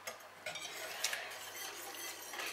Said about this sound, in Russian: Теперь перемешаем все хорошо, чтобы у нас растаяло, растворилось масло и мед.